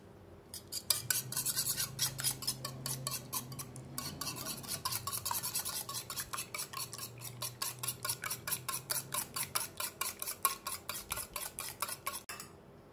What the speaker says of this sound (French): Mélangez jusqu'à le tout ressemble à du sable